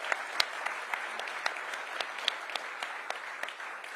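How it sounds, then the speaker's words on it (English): A crowd at a Washington DC event gives steady applause, a dense wash of clapping with a few sharper individual claps popping out near the front. "Please give them a big round of applause."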